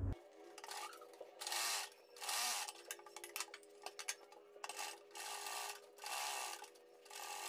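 Sewing machine stitching a neck piece onto a kurti, with bursts of fast, even mechanical whirring separated by short pauses, close by and with no talking.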